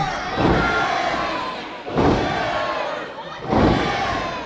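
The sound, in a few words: crowd cheering at a cage wrestling match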